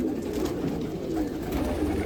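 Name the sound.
Unnavi Khaira pigeon cooing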